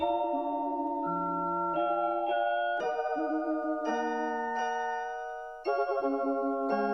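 A bright, bell-like synth melody of sustained notes, doubled by a higher copy an octave up, plays on its own.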